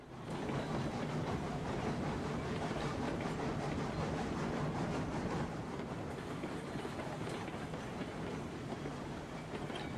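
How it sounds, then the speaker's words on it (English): A train rolls on rails in the video game Railroads Online, a dense continuous rumble with rhythmic clickety-clack from the wheels, loud and close, steady throughout with no talking. "I'm just joyriding this train around the map."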